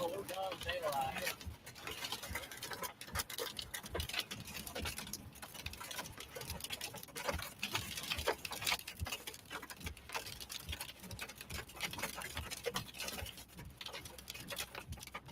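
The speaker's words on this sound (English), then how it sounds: "Got lots of hail falling." Hailstones about ping pong ball size fall in a dense, continuous patter of sharp irregular clicks and thuds striking hard surfaces, steady throughout with a voice talking faintly underneath.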